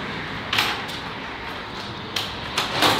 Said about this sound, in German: Das Geräusch der Tür.